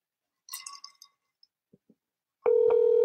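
A telephone call is placed: a brief burst of dialing tones and a few faint clicks, then a loud, steady ringback tone that begins sharply and holds to the end.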